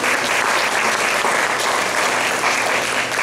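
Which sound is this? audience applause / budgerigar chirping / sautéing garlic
audience applause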